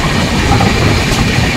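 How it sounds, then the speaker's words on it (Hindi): Rajdhani Express passenger train rushing past on the adjacent track in India, a loud, steady, close roar of wheels and carriages with faint rhythmic rail clatter, no voices. "देखिए हमारी दूसरी तरफ जा रही है राजधानी एक्सप्रेस ट्रेन।"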